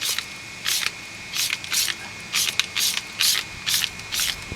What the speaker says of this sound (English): just spray it on. I have the foam applicator on here.